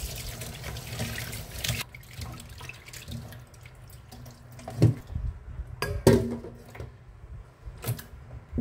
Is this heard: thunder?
no